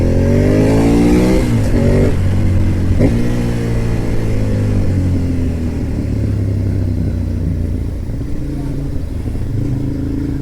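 An 848 motorcycle engine revs up sharply at close range, pitch climbing and dropping a few times before settling into a loud, rough idle.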